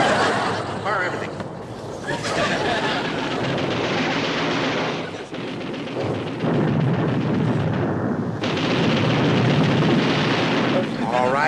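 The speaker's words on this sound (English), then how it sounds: "Fire your forward guns! Fire depth charges 3 and 4!" War-film barrage of naval guns and depth charges, a continuous loud roar of blasts and gunfire with voices shouting over it.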